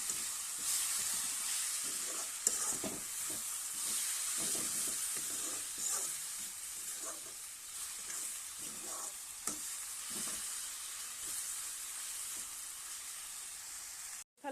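Taro leaves fry in a pan for an Assamese kosu haak recipe, giving a steady close sizzle and hiss, broken by repeated scraping strokes as the greens are stirred, with no talking.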